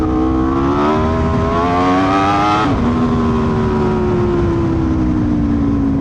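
A superbike engine revs hard in a final pull, the high-pitched wail rising steadily, peaking and dropping briefly at a gear change, then holding a loud, sustained scream close by.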